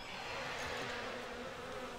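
A swarm of flies buzzing as a spell ability in the fantasy video game Age of Magic: a steady, dense insect drone, faint and continuous over two seconds.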